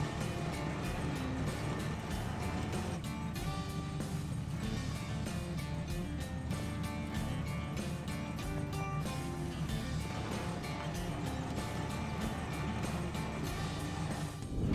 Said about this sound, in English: So I hitch up the cultivator and drive into the field.